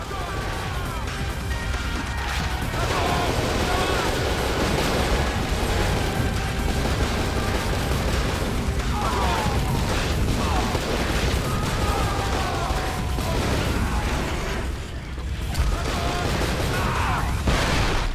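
Enemies burned with a flamethrower in the video game Cold Fear, a dense continuous roar of fire mixed with crashing and clanking game noise, loud and unbroken throughout.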